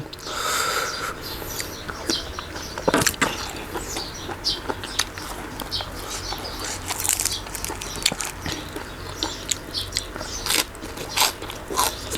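Crunchy food being chewed close up, with repeated sharp crackling bites and crunches over a steady background noise, no talking.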